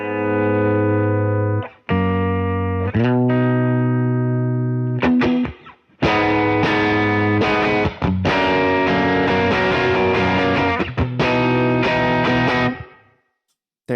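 An electric guitar played straight into heavily overdriven, cooked amplifiers with no pedals, loud sustained distorted chords and notes ringing out in phrases separated by brief pauses.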